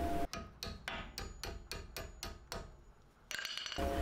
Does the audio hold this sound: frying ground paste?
no